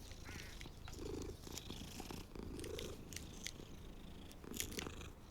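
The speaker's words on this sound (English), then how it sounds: "Oh, there's a cat." A cat in the Hogwarts Legacy video game purrs softly and continuously, a faint low rumble close by with a few small clicking sounds scattered through it.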